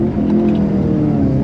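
A rare JDM Subaru launching hard, a loud, steady engine roar rising under acceleration throughout the short burst, with no talking.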